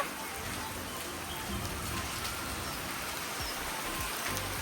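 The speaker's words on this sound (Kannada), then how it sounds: "ಒಳ್ಳೆ ಮಳೆ ಬರ್ತೈತೆ." Heavy rain falls in a rural village setting, a dense, even wash of patter and drips that holds steady throughout, with no voices over it.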